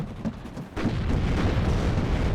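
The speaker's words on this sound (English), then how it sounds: "Really unfortunate, we get the fuel explosion there, so the crit finishes us off" A tank's fuel explodes in the WARNO video game on the Vertigo map. A sharp boom hits, then a loud, sustained rumbling roar that fills the rest of the moment without any talk.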